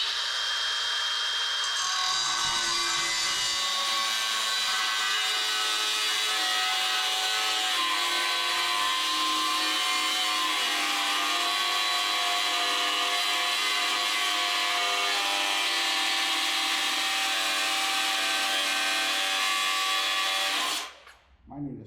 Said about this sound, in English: Might need to swap to a regular cutoff wheel.